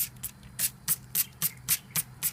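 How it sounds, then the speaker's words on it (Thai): Hand-pumped water spray bottle misting cotton wool for sowing seeds, about nine short sharp hissing spritzes in a quick, fairly even rhythm, close and clear with no talk. "ก็เอา สเปรย์ฉีดน้ำให้สำลีมันเปียกก่อนก็ได้ครับ"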